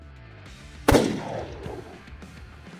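A single loud rifle shot rings out at a warthog boar on a mountainside hunt, a sharp crack followed by a short echoing decay, with no talking.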